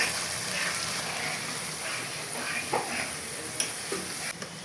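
Spice paste fries with onions in a pan for a chicken curry, giving a soft, continuous sizzle broken by occasional clinks and scrapes of stirring.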